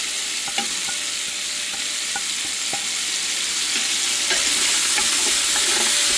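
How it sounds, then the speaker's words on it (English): Onion, fresh garlic, thyme and green onion fry in a pot for collard greens with smoked turkey, giving a loud, steady sizzle with sharp scattered spatters and light stirring clicks throughout. "Stir it up."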